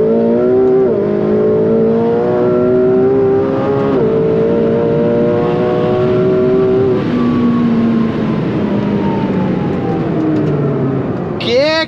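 A high-performance sports car accelerates hard in a top-speed pull, its engine note climbing steadily through several gear shifts as it pushes toward 200 km/h, loud and close throughout.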